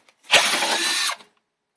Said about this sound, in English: drilling holes, put in the